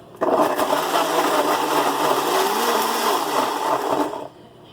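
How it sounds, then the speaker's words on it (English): A kitchen blender whirs at a steady loud pitch for about four seconds while it blends roughly chopped ingredients, then cuts off abruptly. "Okay, I'm gonna go ahead and blend this."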